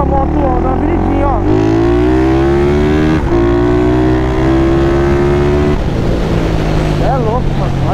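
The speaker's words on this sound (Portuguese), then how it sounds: "Olha que essa moto anda na avenidinha, ó." A remapped 470cc motorcycle accelerates hard along a short city avenue, its engine loud and close, rising in pitch through several gears with brief drops at each shift.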